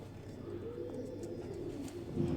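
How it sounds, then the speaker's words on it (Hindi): Teddy pigeon cooing softly at close range, a low, faint murmuring coo that carries on steadily without a break. "ये है टैडी कबूतर है"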